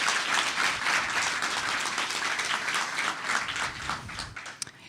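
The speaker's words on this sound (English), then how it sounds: "So please give them a big round of applause." An audience at a startup competition finals event applauds steadily, a dense, sustained wash of clapping from many hands that fades slightly at the end.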